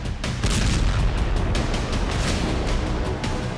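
A powerful explosive blast and its rolling aftermath, a dense, loud series of booming bursts with sharp repeated cracks over a few seconds.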